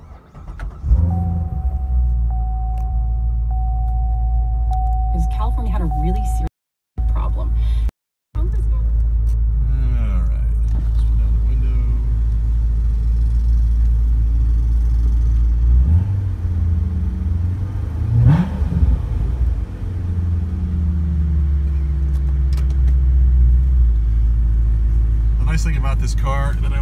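A C7 Corvette with an 8-speed automatic and an Edelbrock E-Force supercharger starts up and settles into a deep, steady idle rumble heard from inside the cabin, with someone talking over it.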